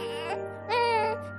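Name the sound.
newborn baby crying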